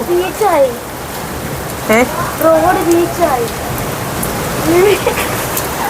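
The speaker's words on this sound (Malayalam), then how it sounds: "ഇതാണ് ഏറ്റവും ഭീകരമായിട്ടുള്ള ഒരു മഴ തന്നെയാണ്" Dense, steady heavy rain in the UAE pours loudly throughout, with a voice speaking intermittently over the downpour.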